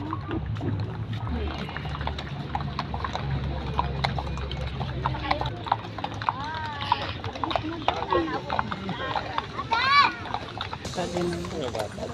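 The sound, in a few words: horse walking and clopping in a park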